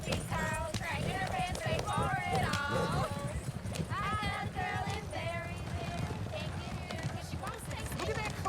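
Horse hooves clip-clop at a steady trot in the Red Dead Redemption 2 video game, mixed with occasional whinnies and running under continuous overlapping speech and singing voices.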